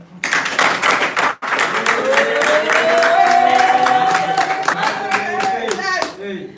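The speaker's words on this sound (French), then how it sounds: "s'il vous plaît, applaudissez pour notre mère." An audience claps rhythmically in unison, loud and steady, while a sustained cheer or shout rises over the beat and people call out amid the applause.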